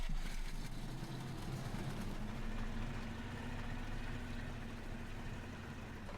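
A ZIL 130 truck idles in the MudRunner video game, giving a steady low engine rumble that runs unbroken and fairly quiet, with no talk.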